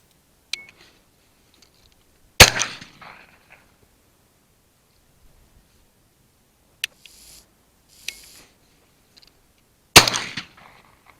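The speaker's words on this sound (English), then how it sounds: "The shotgun is a Lanber 28-inch barreled 12 gauge multi-choke, which I'm loading up with Sega 32 gram number 6s with fibre wads." A 28-inch barrelled Lanber 12 gauge multi-choke shotgun loaded with 32 gram number 6 shot fires outdoors at corvids and pigeons by a sheep feeder, giving two sharp, loud blasts several seconds apart, with fainter clicks and knocks between them.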